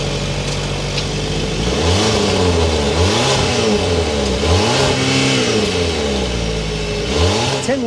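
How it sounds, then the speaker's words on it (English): The engine of a 2024 Volvo XC90 Recharge SUV revs repeatedly, rising and falling in a steady series of throttle blips, loud and close throughout. "start it up so you can hear that exhaust note."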